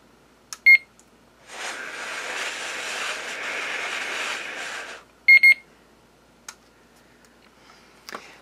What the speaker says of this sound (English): we got our little beep indicator for 8 seconds, made wind noise into the microphone